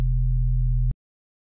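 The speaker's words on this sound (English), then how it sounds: "So now if we play this, just a very big sine wave." A big, pure sine wave synth tone from the Serum synthesizer holds one steady low pitch for just under a second, loud and clean, then stops abruptly.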